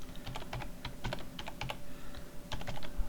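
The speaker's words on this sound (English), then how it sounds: "this will take a few minutes because I'm not a very fast typer" Typing on a computer keyboard, irregular bursts of key clicks at a slow, hesitant pace, close and clear over a faint steady hum.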